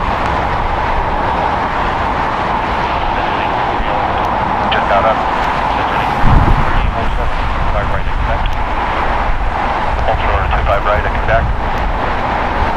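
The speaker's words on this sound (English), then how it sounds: "that is Austrian Airlines flight 81 that just landed in from Vienna" An Austrian Airlines Boeing 777-200ER, 21 years old, just landed at LAX from Vienna. Its engines rumble in a sustained wash of noise with a brief louder surge midway, and a low murmur of activity sits underneath.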